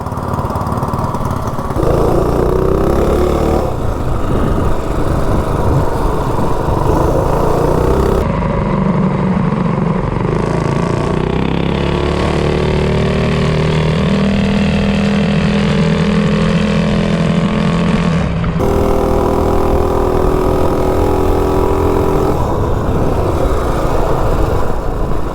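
Two small single-cylinder engines, a Coleman RSV and a B200 mini bike, run together close by, droning loud and steady with their pitches rising and shifting as they rev, and no talking.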